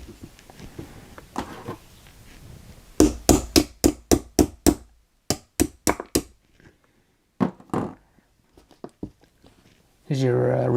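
A punch taps out the retaining pin of a Springfield Armory EMP 3 pistol, a quick series of sharp, close metallic hits in two clusters, then a few scattered taps, with someone speaking briefly before them.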